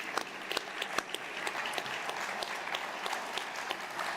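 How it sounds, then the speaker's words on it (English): An audience gives a steady round of applause for dads at a Father's Day service, with dense, moderately distant clapping continuing throughout. "can we just give a huge round of applause to all the dads"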